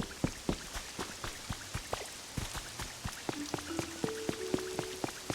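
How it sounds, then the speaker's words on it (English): Rain falls in the Pokopia video game as a steady patter of close, crisp drops, with soft sustained musical tones drifting in over the second half. "It's definitely raining a lot now, though, so everything shouldn't be so dry."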